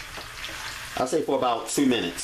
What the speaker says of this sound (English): We're going to stir them and saute them,